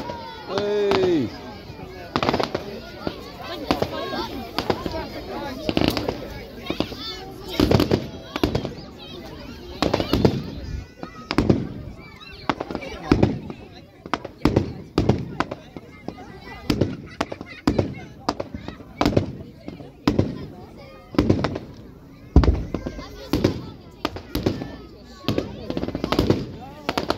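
Fireworks burst over the seaside at West Kirkby, sharp bangs and booming thuds coming in irregular clusters, some loud and close, others softer, with people chatting and reacting in between.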